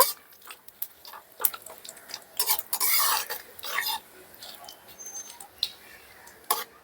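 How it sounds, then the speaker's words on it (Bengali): Whole cumin and bay leaf frying in mustard oil in a pan, a faint sizzle broken by scattered clinks and scrapes of a stirring utensil. "ভাজা ভাজা করে নেব"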